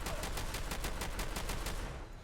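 A Fostech Origin 12 semi-automatic shotgun fires 12 gauge buckshot in Fallout 4, a fast, even string of loud booming blasts that runs continuously and then tails off into a decaying echo.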